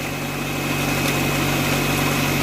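A Honda Integra engine idles steadily while warming up, a constant close mechanical hum with a low drone and faint high whine throughout, no voices.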